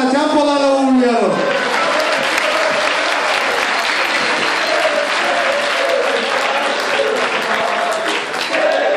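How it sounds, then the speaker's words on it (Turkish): A large audience at a Turkish village youth performance claps loudly and steadily for several seconds, dense and continuous, with cheering voices at the start. "Alkışlara, tempolara uğurlayalım."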